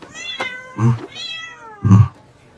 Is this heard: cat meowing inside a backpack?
yes